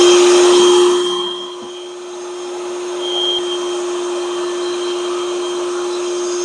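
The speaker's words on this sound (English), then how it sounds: "You've cleaned your own filter using your own vac to do it." A Ryobi P3240 wet/dry shop vac runs steadily up close with a loud constant whine and airy roar, briefly dipping in pitch then holding level.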